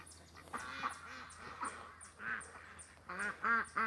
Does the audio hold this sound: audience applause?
no